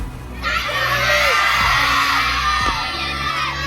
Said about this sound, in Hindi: अच्छा शानदार ताली बच्चों